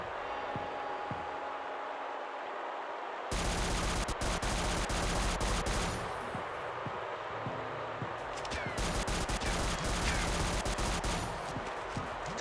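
Rapid gunfire from an enemy's weapon in the video game Shadowgun Legends, loud dense bursts of shots after a quieter opening few seconds, continuing in repeated volleys with no talk.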